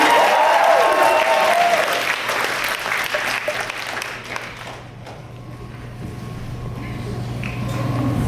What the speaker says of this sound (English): Alright, you can applaud this.